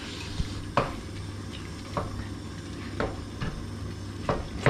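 Horse meat, about a kilo, simmers in a pot with a low steady bubbling hum, broken by soft stirring scrapes and knocks every second or so.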